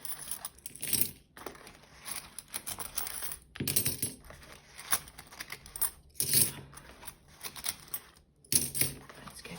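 British 50p coins tumble out of cash envelopes in a series of close, bright metallic clinks and jingling spills, arriving in irregular bursts with short gaps between them and no speech.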